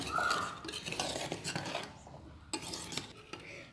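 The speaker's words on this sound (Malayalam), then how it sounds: "നമുക്ക് ഇതൊക്കെ ഒന്ന് മിക്സ് ചെയ്ത് കുറച്ചും കൂടി നമുക്ക് ലെമൺ ജ്യൂസ് ചേർത്ത് കൊടുക്കാം" A simple vegetable salad being mixed with lemon juice gives close, uneven clatter and scraping of a utensil against a bowl in short bursts, with a brief pause midway.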